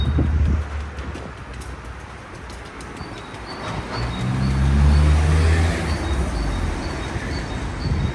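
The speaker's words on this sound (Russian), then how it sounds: "Слышите, как птички поют?" Small birds chirp and twitter repeatedly in the distance over a rumble of passing traffic and a low vehicle drone outdoors.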